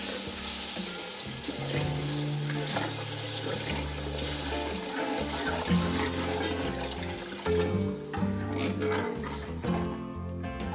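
Water splashes and pours into a pan of Punjabi kadhi pakora curry batter with a continuous rushing and sizzling wash, close by and steady throughout, no one talking.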